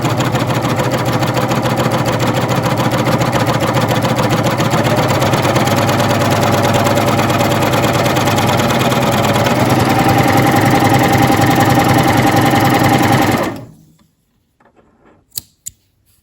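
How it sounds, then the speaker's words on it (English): A coverstitch machine runs steadily as it sews a seam, a continuous fast mechanical whir that holds even for about thirteen seconds, then stops abruptly, leaving a few faint clicks. "I'm going to go ahead and just sew a seam real quick"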